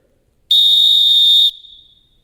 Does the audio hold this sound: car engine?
no